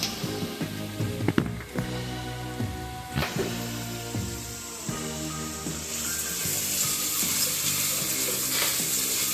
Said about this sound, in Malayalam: സവോള പെട്ടെന്ന് വഴുപ്പിച്ച് നമുക്ക് ഇടാം